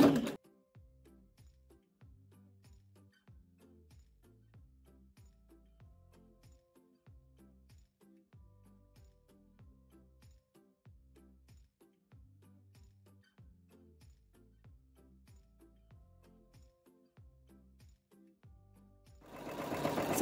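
A home embroidery machine stitches an edge-to-edge quilting pattern in the hoop, a faint, steady mechanical ticking and whirring rhythm running throughout, with louder handling noise at the very start and end.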